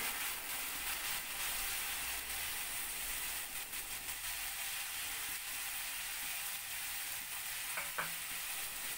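Pumpkin and pumpkin flowers frying and being stirred in a pan, a continuous soft sizzle with light scraping of the spoon, steady and fairly quiet throughout, with one small clink near the end.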